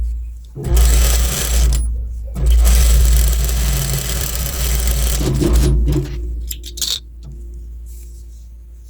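A sewing machine stitches bra fabric in loud running bursts with brief pauses between them, and a few small clicks come near the end.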